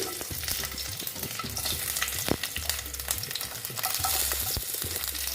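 Garlic frying in a hot kadai, a steady loud sizzle with repeated scraping strokes and clinks of a spatula stirring through it, close and continuous with no voices.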